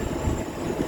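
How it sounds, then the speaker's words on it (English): A DLR train runs between Lewisham and Woolwich Arsenal in London, giving a steady, loud rumble of wheels and carriage noise heard close from on board, with no talking. "So the train continues towards Woolwich Arsenal."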